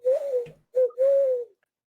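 A human voice imitates a bird call with a few hollow, cooing hoots in two short bursts separated by a brief pause, fairly close and clear, with no other talk.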